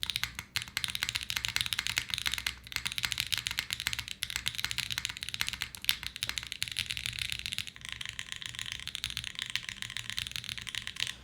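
Rapid, continuous typing on a Lilith mechanical keyboard with long pole switches, dense keystrokes clattering close up with a deep tone and no talk.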